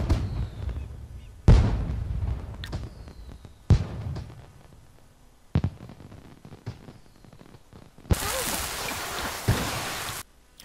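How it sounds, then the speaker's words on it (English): Fireworks burst outdoors in a string of sharp, loud booms a second or two apart, each trailing off into crackle, ending in a longer hissing, crackling shower. "Look at the freaking fireworks."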